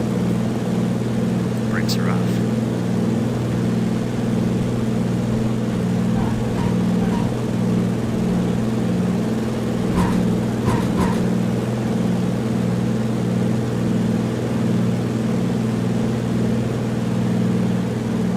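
A simulated aircraft engine in Flight Simulator X runs up for takeoff from a bush strip in the Kokoda region: a steady droning hum with strong tonal bands, under occasional talk and brief clicks.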